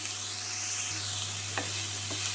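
Chopped cabbage, carrot and capsicum frying in a pan for ragi millet noodles, a dense close sizzle with a low steady hum and a couple of light stirring scrapes, no talking.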